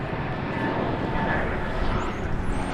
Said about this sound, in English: American Flight 2798, I think is what that is.